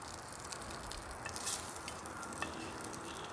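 Bacon fries over a small solo gasifying wood stove with a faint, steady sizzling hiss and an occasional soft pop, quiet and unbroken.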